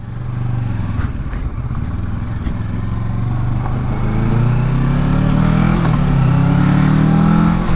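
A 2018 Kawasaki Versys 650 motorcycle ridden on bendy roads, its engine droning steadily and then climbing in pitch as it accelerates, close and loud under wind rush.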